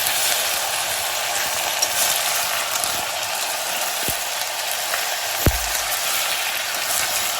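Potatoes and vegetables with garam masala are stirred inside a pressure cooker, giving a constant sizzling hiss broken by a few sharp metallic scrapes and clunks of the spoon against the pot.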